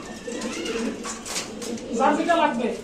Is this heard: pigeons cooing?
yes